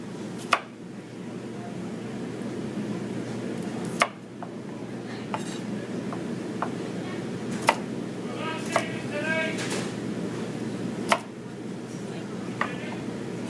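Kitchen knife cutting carrot into batons on a board; sharp isolated chops spaced a second or two apart over a steady background murmur of a busy kitchen.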